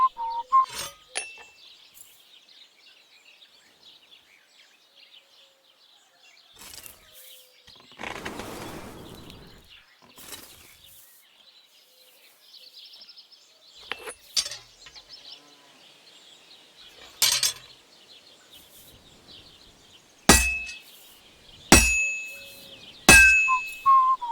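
A blacksmith's hammer strikes hot metal at a forge anvil in Kingdom Come Deliverance 2, giving sharp ringing clinks spaced irregularly and bunching into several loud hits near the end over a steady faint high hiss.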